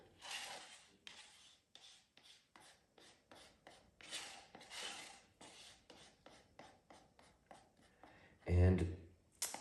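Quick, rhythmic scraping strokes as leftover acrylic paint is scraped out of a cup for a blue fluid art pour, close and steady, ending with a louder low thump.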